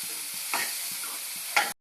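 Beans frying in a pan with chillies and onion for a Mandya-style horse gram dish, a steady close sizzle with two brief louder scrapes of stirring, then an abrupt cut to silence.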